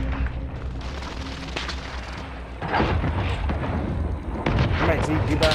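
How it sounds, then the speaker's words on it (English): Airstrike explosions in a video game rumble as heavy, deep booms that swell and overlap into a sustained roar in the second half, loud and close, with people talking over them. "Airstrike."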